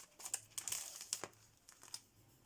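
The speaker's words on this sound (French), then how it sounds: "Donc, je vais la sortir du plastique." A greeting card pulled from its plastic sleeve, giving close, quiet crinkling and rustling in short irregular bursts with no voices.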